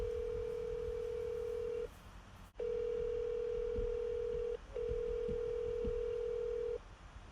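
A telephone calls a landline, giving a steady ringback tone in long, even bursts separated by short gaps, with a brief click between them, close and clear with no talk.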